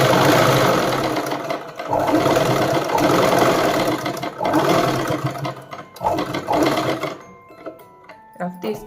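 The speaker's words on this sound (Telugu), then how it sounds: "ఇప్పుడు మనం పాదం బయటికి తెచ్చేయకుండా బ్యాక్ స్టిచ్ వెళ్ళాలి ఈ కుట్టు పక్కన" A sewing machine back stitching beside an existing seam on the side cuts of a Punjabi suit, running in loud sustained whirring bursts with brief pauses, close by, with a voice heard alongside.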